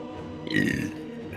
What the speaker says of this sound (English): The belch happens in real time.